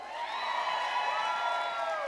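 A campaign rally crowd in Concord, New Hampshire cheers and whoops steadily throughout, a continuous wash of mixed voices heard from a distance, with no clear pauses.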